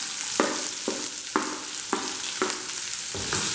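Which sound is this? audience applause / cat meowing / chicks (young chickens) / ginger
ginger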